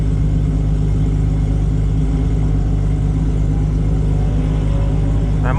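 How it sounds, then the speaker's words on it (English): A Ford Mustang spinning out at a car race, a loud continuous engine roar with dense low rumble filling the whole stretch and a rising squeal at the very end, no talking. "That Mustang spun bad right in front of us."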